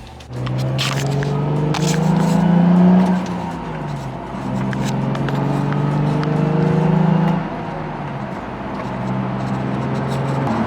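Nissan 350Z with a worn transmission mount running on a test drive, a steady low engine drone that rises in two swells as it accelerates, with road noise throughout.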